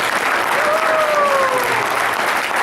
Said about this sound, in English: So let's give a round of applause for Dan.